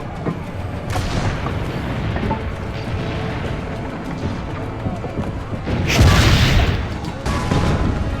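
Cannon fire in Assassin's Creed: Brotherhood, heavy booming blasts and crashes under a dense battle din, one especially loud burst midway, close and loud with voices talking at times.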